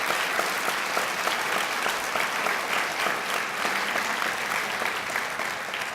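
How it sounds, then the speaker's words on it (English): A large conference crowd of veterans breaks into sustained, loud applause, a thick continuous wash of clapping that holds steady throughout. "Give that staff in the back, Gus and all them, a round of applause"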